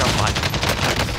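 Rapid gunfire from a Call of Duty Cold War Warzone battle, dense bursts of shots crackling close and loud across a short stretch.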